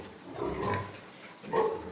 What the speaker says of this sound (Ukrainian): Тут вже бачите двоїку наших французьких п'єтренчиків